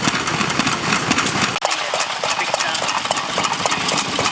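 A vintage display engine runs with a steady, loud, rapid mechanical chugging and clatter. A brief dropout partway through is followed by the same even beat.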